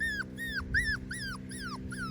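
Schnoodle puppy whimpering in a steady series of about six high, falling whines, each bending downward in pitch, over a constant low hum in the background.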